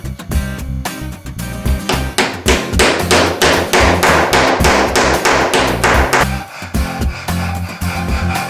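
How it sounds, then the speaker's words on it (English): A sharp chisel struck by a hammer cuts a nut recess into a wooden knob in a rapid series of close, loud, ringing taps, about a dozen in a quick rhythm, then several slower hits. "just use a sharp chisel to take it all the way to your mark"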